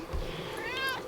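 A domestic cat gives a single short meow, rising then falling, heard faintly over a low room background.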